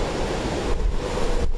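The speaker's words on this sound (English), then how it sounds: "Windy and wild." Strong storm wind in Sydney roars as a loud, continuous gusting rush over the microphone, swelling briefly in two pulses, with no voices.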